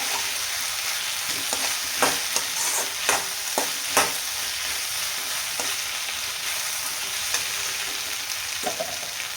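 Vegetables frying in oil in a kadai over low heat, a dense continuous sizzle with a few sharp scrapes and clicks of a spoon against the pan, close up and alone.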